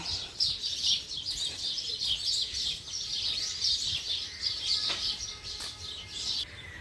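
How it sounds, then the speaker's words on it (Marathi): Dawn birdsong: many small birds chirp and twitter continuously in a lively, overlapping chorus at moderate distance, with no crowing or talking clearly standing out. "कोंबडा बाग देतो पक्ष्यांचा कालवा"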